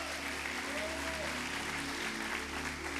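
Church congregation applauding during a service, a dense, continuous wash of clapping from many hands that fills the whole stretch, with voices mixed in beneath it.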